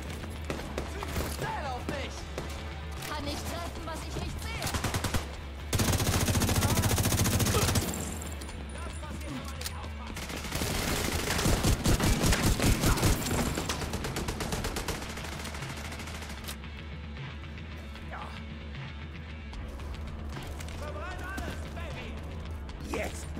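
Pump-action shotgun and other gunfire in The Division 2, with loud bursts of rapid shots, mechanical clatter and creaks, some overlapping voice in places.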